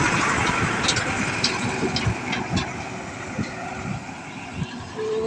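A truck rumbles past on a road, a steady low engine drone with gritty mid-range noise, fairly close and continuous, with someone talking over it.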